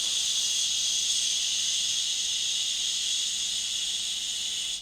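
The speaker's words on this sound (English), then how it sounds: "And exhale." A long, steady breath pushed out through the mouth during a breathing exercise for singers, a soft continuous airy hiss holding evenly for about five seconds, close and alone with no talking.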